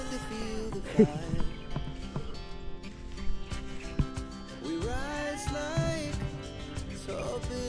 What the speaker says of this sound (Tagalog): sumisigaw yung kambing